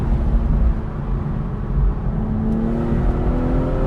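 A BMW M240i engine pulls steadily under load while driving over loose gravel in second gear, a loud, continuous low drone with a rising tone, close and alone without talk.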